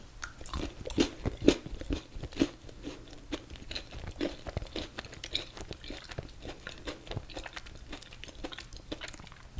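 Crisp bites and chewing crunches of a Reese's peanut butter cup studded with Oreo pieces, close and irregular, repeating for several seconds with no talk.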